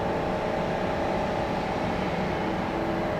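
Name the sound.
aircraft APU running at an airport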